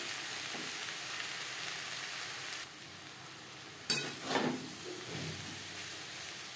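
Yard-long beans and bottle gourd peel stir-fry in a pan, a steady close sizzle broken by a sharp utensil clatter midway and a brief scraping stir just after, with no voices.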